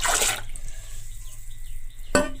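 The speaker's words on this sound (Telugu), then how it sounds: "ఇప్పుడు ఈ వాటర్ కూడా దీనిలో వేసేస్తాను" Water is poured into a plant fertilizer mix in two short splashing bursts, one at the start and another at the end, with near quiet between them.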